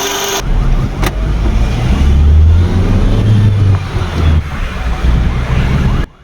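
A Nissan Almera manual car engine drones steadily from inside the moving vehicle on a road test, with low rumble, road noise and wind hiss throughout, loud and continuous.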